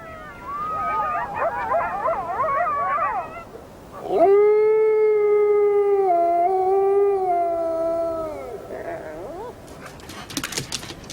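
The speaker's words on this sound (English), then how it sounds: "The howls and yelps of wild dogs can be heard for several kilometers." Wild dogs yelp and chatter in a tangle of high calls, then one long wavering howl rises and holds, fading into scattered yips.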